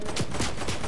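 Gunfire in the Fortnite video game: three quick bursts of shots spaced about a fifth of a second apart, punching through a steady bed of game noise.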